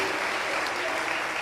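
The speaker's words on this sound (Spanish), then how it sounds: "Dele fuerte las palmas a mi Dios, hermano amado, en el nombre de Jesús" A church congregation claps steadily in dense, continuous applause during a Spanish-language worship service, with voices mixed into the clapping.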